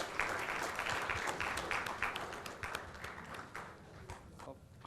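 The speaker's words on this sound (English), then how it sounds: "Can we have a big round of applause for him?" A live audience applauds at a technical session on SolidWorks software, a dense wash of clapping that holds steady for several seconds before thinning out toward the end.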